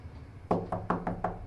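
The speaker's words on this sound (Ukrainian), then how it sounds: "Мене збудив стукіт у двері." Five quick knocks rap on a train compartment door, close and crisp, evenly spaced after a moment of quiet.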